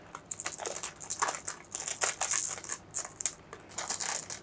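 Tiny plastic game dice clatter and rattle into a small bag, a close, busy run of dry clicks and crinkling plastic that comes in irregular bursts for several seconds.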